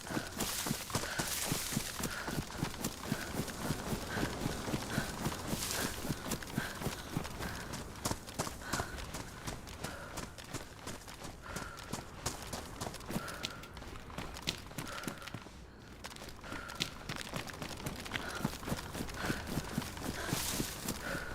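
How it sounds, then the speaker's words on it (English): Hoofed footsteps of deer moving across the Livonia map in the survival game DayZ, a steady, continuous clip-clop of hooves that stays fairly close and loud throughout, with no voices over it. "I think I could hear deer from over there."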